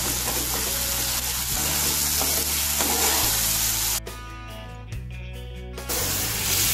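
Masala of onion, garlic and tomato sizzles and fries in a pan for masala paneer. The frying is close, steady and loud, with brief shifts in tone that sound like stirring.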